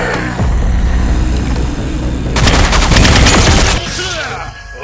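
Gunfire from the mobile shooter game Elite Warzone, an engine-like drone first, then a dense, loud burst of rapid automatic shots that cuts off abruptly.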